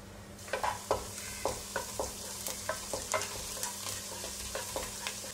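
Chopped garlic frying in sunflower oil for chicken fried rice, with a soft continuous sizzle broken by regular, close taps and scrapes of a spatula stirring in the pan.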